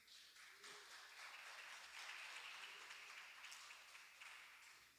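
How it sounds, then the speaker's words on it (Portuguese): A church congregation applauds after a sermon, with a soft, even wash of many hands clapping that rises briefly and tapers off, heard faintly at a distance. "Pode aplaudir."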